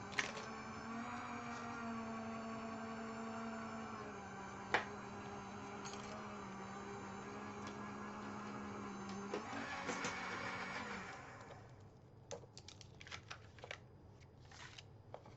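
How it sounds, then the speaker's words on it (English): A die cutting machine runs a cut, giving a steady mechanical whirring hum with a faint tonal drone for about eleven seconds, then winding down to a few soft clicks and handling noises at close range. "You're going to hear my die machine just real quickly."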